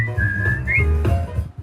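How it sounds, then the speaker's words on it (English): A short whistled melody from a show's theme, with a clear held note sliding upward into a brief trill, close and fairly loud over low background noise. "the show's theme, with its iconic whistle, was actually whistled by Antonucci himself."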